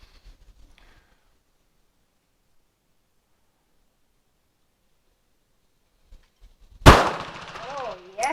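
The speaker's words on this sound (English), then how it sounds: "Now she's going to shoot the Model 81." A single sharp rifle shot from a light Model 81 rifle at an outdoor shooting range, loud and close after several seconds of near silence, followed by a brief ringing tail and faint movement.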